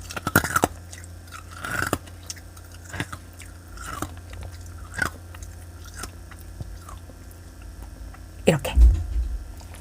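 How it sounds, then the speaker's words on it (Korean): Close, wet chewing by a child with crunchy bites and soft squishing, repeated irregularly over several seconds, with a louder bite near the end. "이렇게 씹는 건데"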